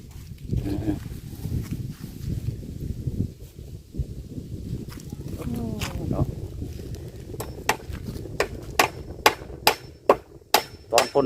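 Voices talk over background noise, then sharp hammer blows ring out in a steady, quickening series, loud and close, like nails driven into wood.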